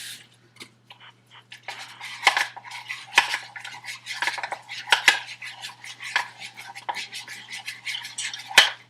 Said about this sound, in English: And then you stir it up really good.